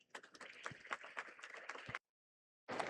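Audience applause at an industry conference, a few seconds of dense clapping from a seated crowd that cuts off abruptly, then resumes briefly after a moment of silence.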